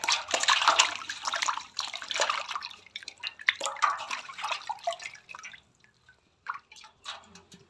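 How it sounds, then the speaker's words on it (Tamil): Murrel fish being rinsed in water for frying, with close, steady splashing and dripping that thins out into scattered drips and trickles. "இந்த மீனை நம்ம அலசி எடுத்துக்கலாம்."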